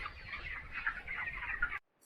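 Chickens on a poultry farm cluck and murmur together in a soft, continuous chatter of many birds, then it cuts off abruptly.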